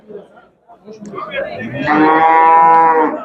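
A cow lets out a long, loud moo close by, preceded by faint rustling and low crowd noise of a busy livestock market in Shahrisabz, Uzbekistan.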